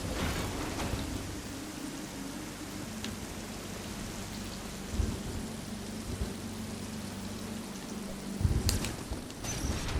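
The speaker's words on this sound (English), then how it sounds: "Why is it raining?" Rain and thunder in the video game Metroid Dread: a steady patter of rainfall with low rumbling thunder swells rolling underneath, plus a few sharper bursts toward the end, all at moderate level.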